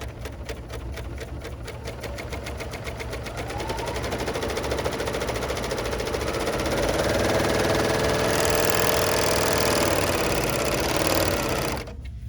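A BERNINA L 890 serger runs under foot control with a fast, steady mechanical whir that speeds up and holds, close and continuous, before stopping abruptly at the end.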